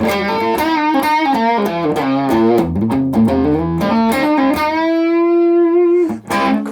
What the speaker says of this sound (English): you can set your gain up like this so that you've got that distortion, that saturation